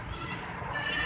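A goat bleats once up close, a short wavering cry, at a livestock market in Karachi during the Qurbani season.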